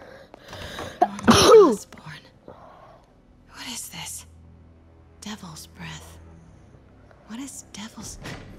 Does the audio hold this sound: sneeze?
yes